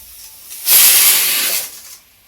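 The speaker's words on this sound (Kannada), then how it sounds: "ಕುಕ್ಕರ್ ವಿಷಲ್ ಆಯಿತು" Pressure cooker whistle venting steam in a home kitchen, a single loud close hiss that bursts on, holds steady for over a second, then fades away.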